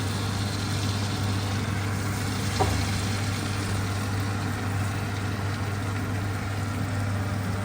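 Floured osso buco browning in a pan of butter and avocado oil gives a steady soft sizzle over a constant low hum, with one brief clink near the middle.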